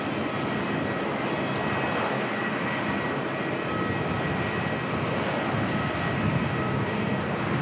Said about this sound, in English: Next departure heading out from the far end of the runway is Jetstar heading to Cairns.